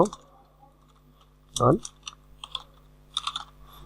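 A few scattered keystrokes tap on a computer keyboard while typing in MS Word, with short pauses between small clusters of clicks and a person talking over them.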